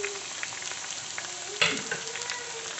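Onion, ginger, green chili and garlic fry in a pan as they are stirred, a steady crackling sizzle running throughout, with a louder scrape and burst of sizzle partway through.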